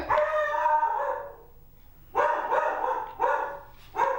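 A dog barks and howls nearby: one long drawn-out bark, then three shorter loud barks in quick succession.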